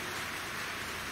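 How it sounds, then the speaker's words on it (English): Heavy rain is just starting to pour outdoors, giving a steady dense hiss that runs unbroken through the moment, quiet and with no voices, while a faint high tone hums along in the background. "it's just starting to pour with rain out there"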